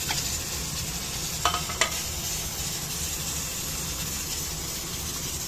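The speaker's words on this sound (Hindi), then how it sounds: "और इसको तेज आंच पर हम फ्राई करेंगे" Chicken pieces frying on high heat in hot oil with whole spices like cinnamon and cumin in a karahi: a constant loud sizzle with a couple of sharp utensil clinks, no voices.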